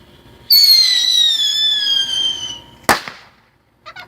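A firework shooting off in a backyard: a loud whistling screech that slides slowly down in pitch for about two seconds, then a sharp bang, followed by a faint crackle.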